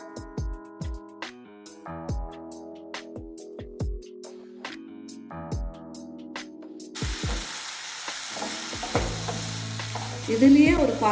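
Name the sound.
sautéing mudakathan keerai leaves in a pan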